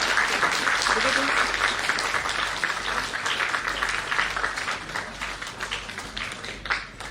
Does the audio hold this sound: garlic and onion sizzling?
no